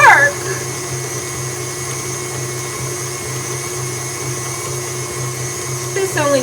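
An electric mixer beats chocolate chip cookie dough. It makes a steady, loud motor whine with a constant high hum, and there are brief clattering bumps at the start and the end.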